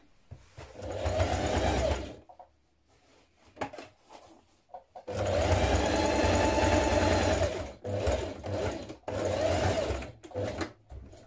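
A sewing machine stitches around the crotch of a pair of jeans near the fly, running in two long loud bursts with a short pause between, then several shorter runs at close range.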